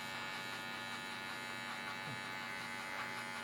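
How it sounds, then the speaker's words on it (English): Electric hair clippers opened all the way while cutting a skin fade, buzzing with a steady, close, even hum throughout and no speech. "I'm going to open my clippers up all the way, and I'm going to create another line"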